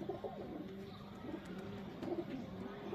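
Female Surkhi or Saleti Ferozepuri breeder pigeon with red eyes, cooing in low, repeated soft calls close by amid other birds, with faint background noise.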